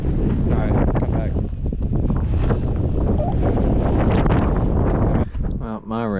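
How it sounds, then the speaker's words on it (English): Strong wind whips across open plains, roaring and buffeting the microphone in a loud, continuous rush with gusty swells near the end. "It's really windy. It's like super windy. It's just whipping across these beautiful plains"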